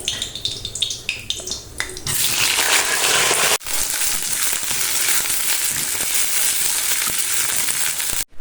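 Vegetables drop into hot oil with cumin in a wok and burst into a loud, steady sizzle after a few seconds of lighter crackling. The hiss continues strongly to the end.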